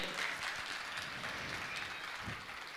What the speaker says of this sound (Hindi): मैं चाहूंगा जोरदार ताली बजाकर इनका सम्मान करें